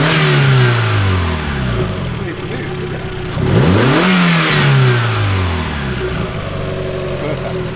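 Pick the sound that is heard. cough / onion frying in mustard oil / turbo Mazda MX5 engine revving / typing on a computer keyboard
turbo Mazda MX5 engine revving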